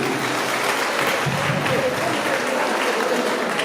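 Audience applause at a ceremony where cars and motorcycles are handed out, a steady dense clapping from a crowd lasting throughout, fairly loud and close with no break.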